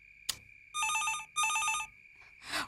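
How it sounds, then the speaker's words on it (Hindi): An old-style telephone bell rings in two long bursts separated by a short gap, bright and metallic, with a sharp knock before the first ring, a steady background tone, and another brief clatter at the end. "ओह नो, ये पापा का ही फोन होगा।"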